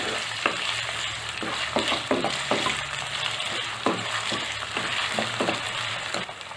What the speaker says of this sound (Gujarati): ઘીમાં સાતળી લઈશું